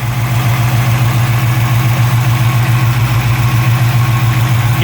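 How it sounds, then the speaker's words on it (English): A Chevy 350 V8 idling with its valve covers off during lifter adjustment, a loud, steady, close-up rumble with an even mechanical patter and no pauses. "the engine's kind of loud"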